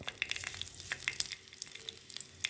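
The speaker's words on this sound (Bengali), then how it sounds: "তেলে দিয়ে দিব কয়েকটা আস্ত জিরা" Whole cumin seeds sizzle in hot oil in a wok, giving a quiet, close crackle with scattered sharp pops and no voices.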